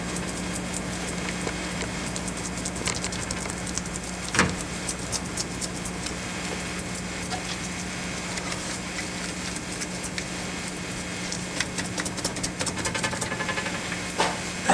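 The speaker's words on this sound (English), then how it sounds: "You can hear the air escaping." Air escaping from under aluminum foil laid over resin on an aircraft kit part as it is rubbed by finger, a faint steady hiss with small scattered clicks and one brief bump, no speech.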